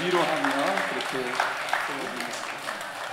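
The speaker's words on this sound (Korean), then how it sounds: "우리 다른 분들은 박수로 우리 다시 한번 축복하고 사랑하고 또 격려하고 위로하며" A church congregation claps warmly in sustained applause at a Korean elder ordination service, with a voice speaking over the clapping.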